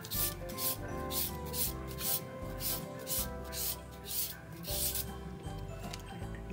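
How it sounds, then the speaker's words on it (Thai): Fresh carrot grated by hand against a grater for a Thai glass-noodle and instant-noodle salad, a steady run of rhythmic rasping strokes repeating close up with no voice over it. "แครอทนี้นึกจะใส่สดๆนะคะแต่นึกจะใช้วิธีขูดนะคะ"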